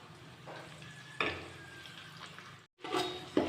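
Ginger garlic paste sizzles and spits in a hot oiled pan, a soft crackling fry with a few louder bursts as it is stirred, fairly quiet and close.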